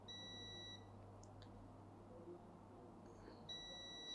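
A multimeter in continuity buzzer mode beeps while probing components to ground on a Vivo phone circuit board: a faint steady tone at the start, a pause with small clicks, then the beep returns near the end.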